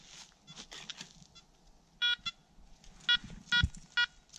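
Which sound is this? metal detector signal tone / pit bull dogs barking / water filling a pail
metal detector signal tone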